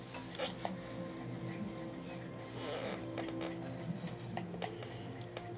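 A soap mixture is stirred in a container, giving scattered clinks and scrapes against a steady background hum.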